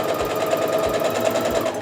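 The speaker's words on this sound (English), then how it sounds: "I'm going to take a couple of stitches forward to get that secured" A sewing machine stitches through quilting fabric, giving a steady, close, rapid mechanical whir with an even needle rhythm and no voices.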